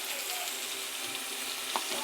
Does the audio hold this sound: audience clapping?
no